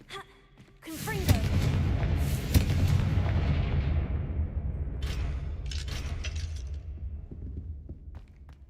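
Confringo fire spell exploding in Hogwarts Legacy: a sharp blast lands after a short lead-in, then a heavy rumbling roar that slowly fades, with a few crackling impacts on top and a voice briefly audible.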